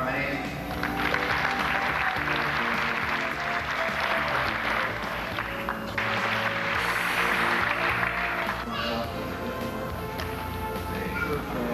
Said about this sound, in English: Special applause.